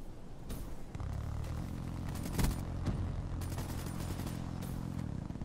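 An RK5 pistol with extended magazines fires in a first-person shooter game, rapid repeated shots over dense, continuous game noise with a few sharper impacts.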